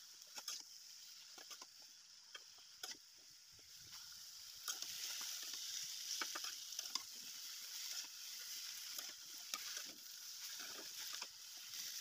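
Malabar spinach frying in a pan, a steady soft sizzle with scattered crackles and light stirring scrapes, fairly quiet and close, with no talk.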